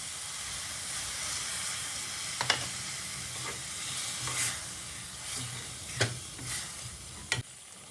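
Tamarind juice and bisibelebath powder poured into a hot tempering sizzle and hiss steadily in a pan, with occasional sharp stirring clinks and scrapes, close and alone without talk.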